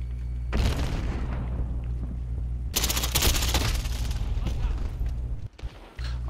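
Rapid bursts of gunfire in Modern Warfare on Xbox Series X, with heavy booming shots and dense crackle throughout, including shotgun fire, and a brief drop in level near the end; voices talk over the action.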